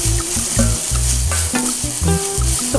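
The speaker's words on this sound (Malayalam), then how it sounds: "ഒനിയൻ ചോപ്പ് ചെയ്ത് വെച്ചിരിക്കുന്നത് ഇട്ട് കൊടുക്കുക." Chopped onion with salt frying in a pan, loud close sizzling with quick rhythmic stirring strokes and scrapes throughout, no talk.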